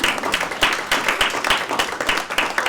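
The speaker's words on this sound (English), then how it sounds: "How about a round of applause for all of us?" An audience applauds together in a dense, steady burst of clapping that carries on throughout at a moderate level, with no break.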